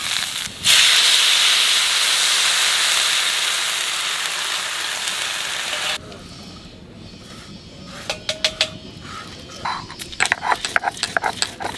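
Water poured into a hot pan of elephant foot yam fried with green chilli and ginger, giving a loud steady hiss and sizzle that then settles into quieter bubbling with scattered crackles and clinks.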